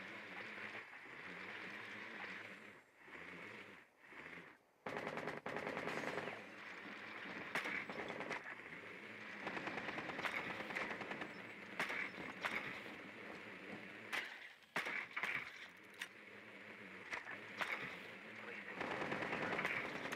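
Rapid bursts of gunfire crackle through a round of Rainbow Six Siege, with sharp shots scattered irregularly across the stretch and voices talking over parts of it.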